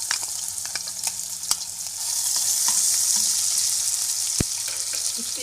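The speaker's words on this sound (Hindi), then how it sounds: "अब इसी ऑयल में मैं पहले ये अदरक लहसुन डालूंगी" Ginger and garlic frying in hot oil for a bhindi gosht curry, a steady bright sizzle that swells louder midway, with occasional light clinks of a spoon against the pan.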